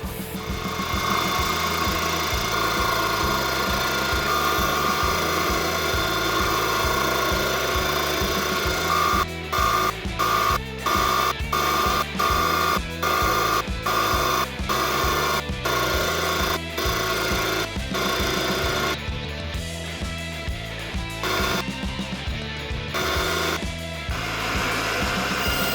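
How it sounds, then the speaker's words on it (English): A boring head runs in reverse on a machine while prototyping a motorcycle engine, producing a loud, continuous metallic grinding drone with a pulsing, regular rhythm and rapid repeated chatter partway through. "you're thinking that boring head's going to unscrew using it in reverse"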